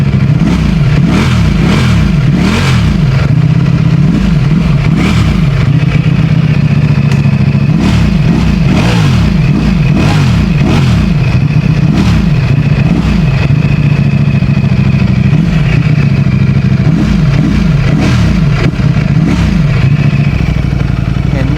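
A Ducati Streetfighter V4 motorcycle with an Akrapovic exhaust revs loudly and close up, its engine rising and falling in repeated bursts over a steady idle.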